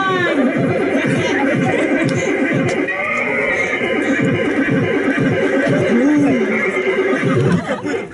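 A voice on an improv theatre stage imitates a horse neighing, a loud drawn-out whinny with rising and falling pitch, close and continuous.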